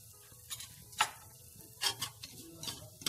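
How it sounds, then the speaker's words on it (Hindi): Broken wheat (dalia) is roasted and stirred in a pan, giving soft scraping sweeps and light gritty rustles in irregular bursts, close and fairly quiet. "और दलिये को हम 5 मिनट तक अच्छे से भूनेंगे।"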